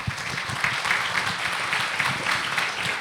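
A conference audience at an international event on education and AI applauds as a lawmaker comes on stage, a steady, moderately loud wash of clapping throughout.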